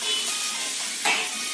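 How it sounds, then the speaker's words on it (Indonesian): Garlic and spices stir-fried in a pan until half cooked, giving a steady close sizzle with a brief louder flare near the end and no talking. "Ini istilahnya digongso sampai setengah matang."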